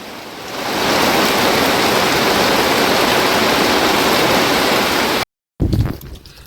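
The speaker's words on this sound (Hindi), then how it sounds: "भाई साहब बारिश देखिए कितनी तेज़ हो रही है दोस्तों" Heavy rain pours down in a dense, steady roar close by, keeping a constant loud hiss for about five seconds before cutting out briefly and returning in softer, uneven spatters.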